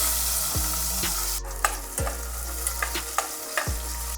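Onions frying in a pot for Hyderabadi mutton pulao, a loud steady sizzle broken by several scraping stirs of a spoon at regular intervals.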